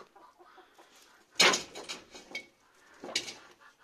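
Chickens and a rooster in a backyard coop on a cold winter day, with a few short clucking bursts, mid-distance and moderately loud, separated by quieter gaps.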